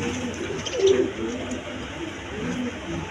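Pigeons coo softly nearby in a few low, throaty bursts, with a quiet background hum and no clear talk.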